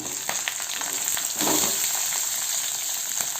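Chopped chillies and onions frying in hot oil with cumin and mustard seeds, a steady close sizzle with faint crackles and a brief louder burst of spitting partway through.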